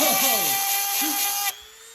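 EzzDoo electric chainsaw chain sharpener screaming at its maximum speed setting, a loud, steady high-pitched grinding whine with sweeping tones as the chain is slid in, then abruptly dropping to a quieter hum.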